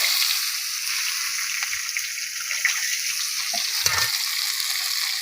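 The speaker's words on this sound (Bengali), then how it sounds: "এই তো বাটা মশলাটা দিয়ে দিলাম।" Ground spice paste of tomato, cumin, coriander, chilli and onion fries in a pan with a dense, close sizzle and bubbling hiss. A couple of soft stirring knocks break the steady sound, and no one speaks.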